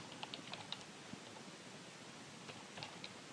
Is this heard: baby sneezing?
no